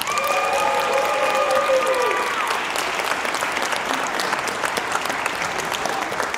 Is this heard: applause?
yes